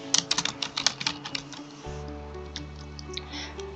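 Quick, close keystrokes on a computer keyboard as a username is typed into a student login page, a burst of clicks for about two seconds followed by a low steady hum.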